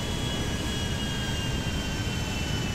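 A large plane in the video game GTA 5 lands on an aircraft carrier, producing a loud, continuous jet-engine roar that fills the whole stretch with no voices.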